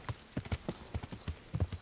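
Horse hooves gallop in the video game Kingdom Come Deliverance, a quick rhythmic clip-clop of repeated thuds, fairly faint and steady, with no talk over it.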